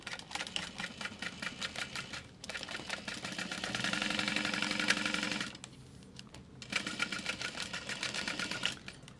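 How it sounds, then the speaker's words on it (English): A sewing machine stitches a bag seam with a backstitch, its steady rapid mechanical whir running in close, loud bursts separated by brief pauses as the fabric is pivoted. "So I'll pivot, backstitch, continue sewing"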